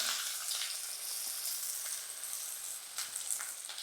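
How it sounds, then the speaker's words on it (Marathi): Onion fries in hot oil in a pan, a steady close sizzle with scattered sharper crackles and spits throughout. "तेल तापलं की आता आपल्याला ह्याच्यात ही मिरची टाकायची आहे की आता आपल्याला ह्याच्यात कांदा टाकायचा आहे"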